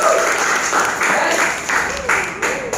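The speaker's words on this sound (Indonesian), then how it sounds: "Tepuk tangan buat kita semuanya." Audience applause fills a business seminar, a steady crowd clapping close by for nearly three seconds, its loudness surging again in a few fresh bursts.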